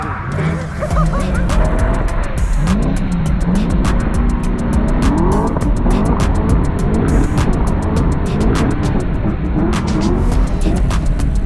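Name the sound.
budget Ford Falcon drift car revving and tire squeal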